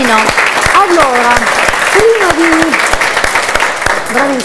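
Studio audience applause at a live Italian TV show, steady clapping throughout while a voice speaks over it.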